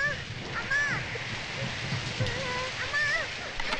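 Steady rain pours down in a film scene, a constant wash of noise under a voice speaking in short phrases.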